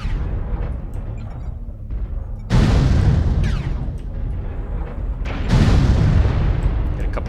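Heavy weapon salvos boom out in MechWarrior Online, two loud, deep blasts a few seconds apart, each with a rumbling tail, over a low mechanical drone.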